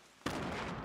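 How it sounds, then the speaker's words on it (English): A grenade goes off in Fortnite during a competitive duos match, a single sudden blast that erupts loud and then holds as a sustained rumbling roar. "Envy Gorilla, that's a grenade, and throws a grenade."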